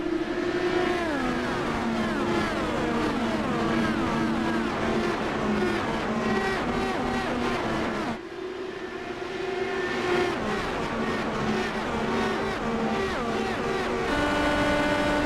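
Several Indy cars in the iRacing Indy 500 at Indianapolis Motor Speedway pull away together on a green-flag restart, a loud layered whine of engines rising and shifting in pitch, with a brief dip midway before the pack surges again.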